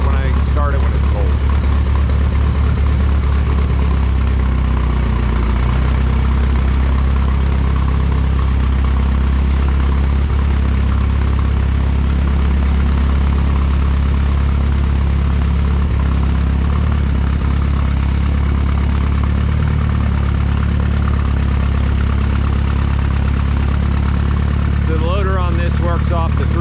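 A Minneapolis Moline A4T tractor engine idles loudly and steadily up close for the whole stretch, a deep continuous rumble with a carburetor still needing adjustment, while someone talks over it.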